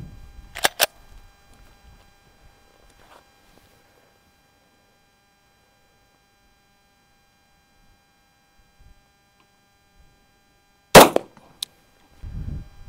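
A Glock 22 pistol fires .40 S&W rounds: two sharp, close reports early on, then a long silence broken by a faint tap, and a loud shot near the end followed by a quick second crack and low rumble.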